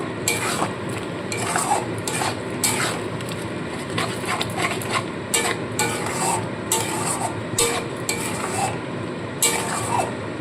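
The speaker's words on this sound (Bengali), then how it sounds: "এবার সমস্ত মশলা খুব ভালো করে কষিয়ে নেব" Spice paste with chilli powder and a pinch of sugar is sautéed in a pan for Bengali red chicken curry: loud rhythmic scraping strokes of a spoon over a low sizzle, close up, with no talk.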